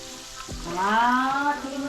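Ingredients for a Filipino tuna stew in coconut milk sauté in a pan, a soft sizzle and stir with a brief rising tonal sweep partway through, fairly close and without talk.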